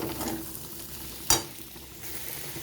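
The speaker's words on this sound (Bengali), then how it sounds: "কুঁদরি আর আলু আর পেঁয়াজ সমস্ত উপকরণ খুব ভালো মতন ভাজা হয়ে গেছে" Ivy gourd, potato and onion frying in a pan and being stirred, with a steady soft sizzle broken by one sharp scrape or clatter of the spoon partway through, close and moderately quiet.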